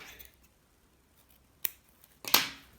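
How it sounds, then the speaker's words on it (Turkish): Scissors snipping paper yarn while making a braided paper-yarn bag, two short crisp cuts close to the microphone in a quiet room. "burada ipimi kesiyorum"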